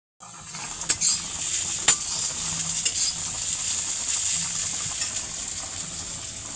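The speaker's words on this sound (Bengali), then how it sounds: "এই আলু ভাজা হচ্ছে" Potatoes fry in a pan, giving a steady, close sizzling hiss that runs throughout, broken by a few sharp pops and clinks near the start.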